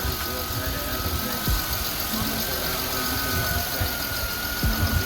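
A 2009 Chevy Malibu Maxx engine idles smoothly after fuel injector repair fixed a misfire, an even, steady hum with a high whine on top, a few soft thumps in the background, and a voice talking over it.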